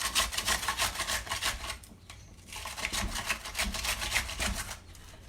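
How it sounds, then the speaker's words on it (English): Vegetables for coleslaw are rubbed hard over a hand grater, making fast, rhythmic, rasping scrapes close by. The strokes come in quick runs, with a short pause in the middle. "you can use a grater, and you use this part here of the grater, okay, like so"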